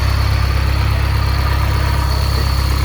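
An Alfa Romeo Twin Spark engine idles on a test stand, a loud, smooth, even rumble with a steady low throb and no revving.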